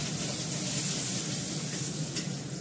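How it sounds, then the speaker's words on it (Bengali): Fish frying in a pan gives off a continuous, loud, close sizzle with a hissing, crackling texture that stays steady for the whole stretch, with no voices over it. "আমার মাছটা ভাজা হয়ে গেল।"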